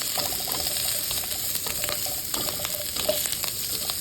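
Vegetables such as broccoli frying in a pan for a sliced kabanos sausage dish, a steady close sizzle with scattered crackles, scraping stirs and a few clicks throughout, with no talking.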